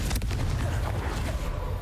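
A Confringo fire-blast spell in Hogwarts Legacy fires with a sharp, loud burst followed by a rumbling, fading boom lasting under two seconds, heard alone with no talking.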